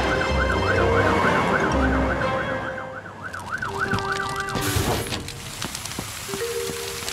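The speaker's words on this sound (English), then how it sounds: "They're brumming too loud to hear Fiona's siren" A wailing cartoon fire truck siren rises and falls loudly in repeated sweeps, then cuts away to mixed engine and traffic noise and scattered tones in the animated scene.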